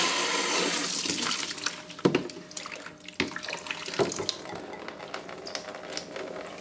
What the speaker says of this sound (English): To get that out of the system, you're going to take your bucket as a precaution and open up both valves again.